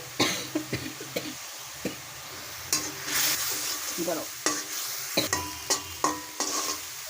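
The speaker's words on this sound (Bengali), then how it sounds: "মরিচ হলুদের গুঁড়া দিয়ে মশলাটাকে নেড়ে ছেড়ে নিয়েছি" Spice masala with chili and turmeric powder frying in oil, sizzling continuously as a utensil stirs and scrapes the pan in repeated short strokes, fairly quiet and close.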